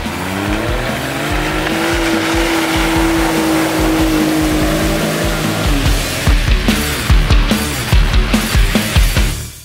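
A Ford Ranger fitted with a Jeep Cherokee engine runs loud and close, a sustained droning note that later turns into sharp bursts of revving.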